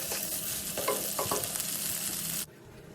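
Prawns fry with onions in a pan, giving a loud, bright sizzle with soft stirring scrapes. The sizzle stops abruptly near the end, leaving a faint hiss.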